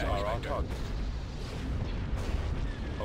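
Star Destroyer guns fire in a Star Wars space-battle strategy game with an Imperial campaign, making a dense, continuous barrage of heavy booming blasts and rumbling explosions with faint voices beneath.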